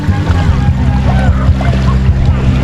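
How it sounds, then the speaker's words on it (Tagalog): Waves break heavily on a shore with the beach right beside the listener, a loud, steady churning wash with strong low rumble and no clear pause between surges. "Ang hampas ng alon."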